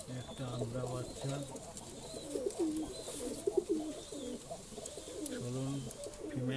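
High-flying pigeons coo repeatedly in a breeding loft, their low rolling calls overlapping near and far, with a person talking intermittently over them.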